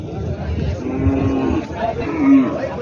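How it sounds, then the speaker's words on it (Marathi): Cows moo repeatedly at a busy cattle market in Parbhani, two drawn-out low calls rising over a steady crowd murmur and background chatter. "गावरान गाई मित्रांनो थोडं दूध कमी देतात, मात्र चांगल्या क्वालिटीच्या गाई असतात"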